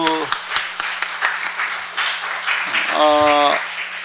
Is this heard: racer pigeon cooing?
no